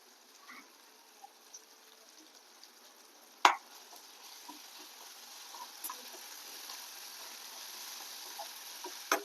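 Ground spice paste with onion and tomato fries in oil in a pan, a soft steady sizzle that builds slightly, punctuated by a sharp spoon clack and occasional ticks.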